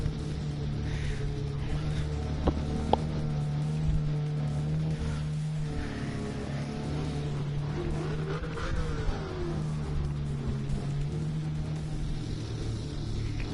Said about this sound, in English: Hear that flat plane crank on these things.